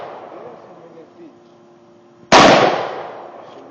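A single loud, sharp AR-15 rifle shot outdoors, a sudden crack with a decaying tail following some quiet murmuring beforehand.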